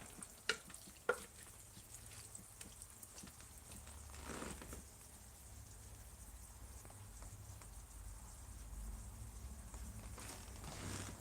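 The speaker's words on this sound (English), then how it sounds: "Stir that in. Oh yeah, it's getting nice and thick." Thick chili being stirred in a pot, faint scraping and stirring strokes with a few sharp knocks at the start over a low, quiet simmering hiss.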